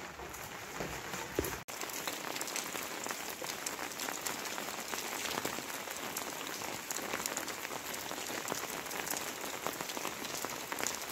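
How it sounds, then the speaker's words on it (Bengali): Steady rain falls on outdoor surfaces, a dense even patter throughout, broken once by a brief sharp knock near the start, with no voices. "ঠিক বেরোবো আর এই সময় বৃষ্টি।"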